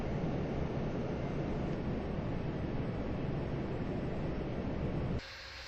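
A Qantas airliner in the FSX flight simulator, Melbourne to Tasmania, gives a steady, loud broadband engine and cabin roar that holds evenly before dropping abruptly to a quieter hum near the end.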